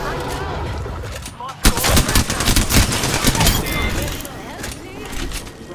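Rapid bursts of video game gunfire crackle loud and close in a shooter match, overlapping with repeated sharp impacts over several seconds.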